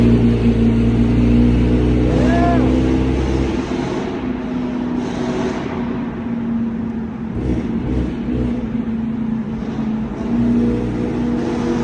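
A car engine at a cars and coffee meet revs hard in a big tunnel, loud and close with a rising whine that drops off, then a lower echoing rumble and passing traffic noise continue.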